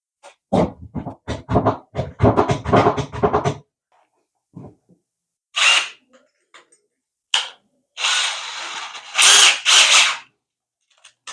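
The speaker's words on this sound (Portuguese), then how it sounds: "para poder fazer o furo com a furadeira portátil" A portable power drill bores a hole in a door clamped to a workbench, a series of close, loud whirring bursts in quick succession, followed by a few more scattered drilling spurts after a pause.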